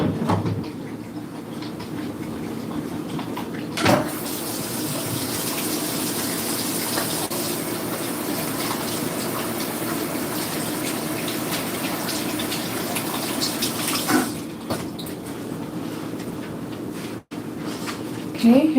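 Tap water gushes steadily for hands being washed at a sink, a continuous broadband rush running almost the whole time, with brief knocks and clatter partway through.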